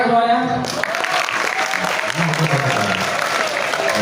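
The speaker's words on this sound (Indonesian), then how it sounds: "Anak TKR tepuk tangan semuanya." Students at a vocational school orientation applaud together, a dense burst of clapping from a hall full of people that starts abruptly and carries on steadily, following a moment of speech at the start.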